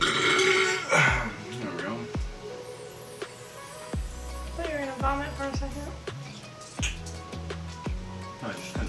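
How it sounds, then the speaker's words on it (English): Loud belches come from someone partway through a huge chicken nugget eating challenge, several deep burps scattered between bursts of close talking. "I just kind of stopped burping for a second."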